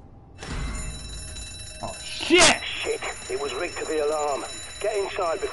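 Rigged alarm going off in the video game Zombi, a sustained ringing electronic tone with a sharp jolt early on, continuing loudly under someone talking over it.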